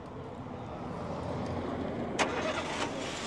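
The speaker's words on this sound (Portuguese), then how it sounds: "O amigo vai dar partida aqui no motor para vocês escutarem aqui junto comigo o ruído." A used car's engine cranks and fires up at an outdoor used-car fair in Caruaru, Pernambuco, a brief starter burst followed by a steady running engine, heard from fairly close in a noisy open setting.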